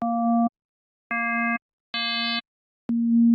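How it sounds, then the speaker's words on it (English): A synth tone from a Serum preset plays four separate sustained notes with short gaps between them, each bright and buzzy with added harmonics, alone and without voices. "It's gonna be a sine wave."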